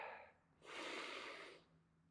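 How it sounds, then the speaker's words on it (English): A single deep breath during a vinyasa yoga session: a short faint intake, then a longer, louder airy exhale that fades out, close and quiet with no talk. "Deep breath here."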